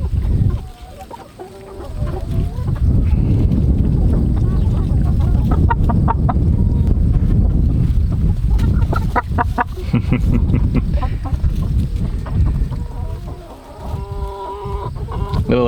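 Chickens cluck loudly and continuously over a heavy rumbling background, with busy overlapping calls from a flock kept as livestock.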